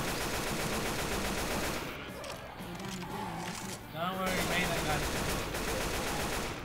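Sustained rapid gunfire from a first-person shooter game, a continuous dense rattle of automatic fire under a voice speaking in the middle stretch.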